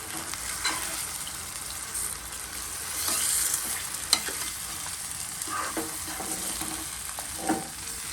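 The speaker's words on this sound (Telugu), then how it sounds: "ఒక్కసారి మొత్తం అంతా ఆయిల్ కలిసేటట్టు కలిపేసుకోండి గైస్" Chicken for chilli chicken being stirred in oil in a pan, a continuous close sizzle overlaid with irregular scraping and clinking of a spoon against the pan over several seconds, no one speaking.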